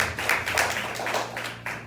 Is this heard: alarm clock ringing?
no